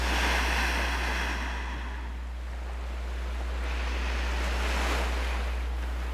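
Ocean surf rolls and washes continuously, a steady broadband rush that swells and eases with the breaking waves, with a windy edge and no voices.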